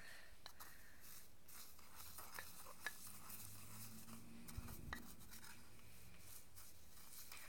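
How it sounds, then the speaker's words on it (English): Ground loose incense ingredients being stirred together in a bowl, giving faint, sparse scraping and light clinks against the bowl in a quiet room, with no talking. "let's give that a bit of a mix"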